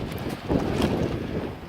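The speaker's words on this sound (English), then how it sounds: "Ooh, it's windy, excuse the noise." Wind buffets the microphone in a steady low rumble, swelling briefly in gusts with no other clear sounds.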